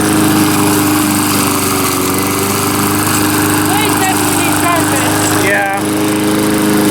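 A lawn mower engine runs loud and steady close by with its muffler loose and flopping, a continuous buzzing drone; a person briefly speaks over it near the end.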